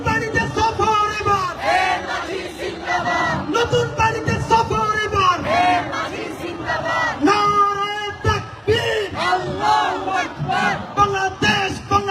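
A large crowd at a Bangladeshi political rally led by Osman Hadi chants slogans back in call-and-response. Loud, rhythmic mass shouting repeats in surging phrases throughout, close and dense.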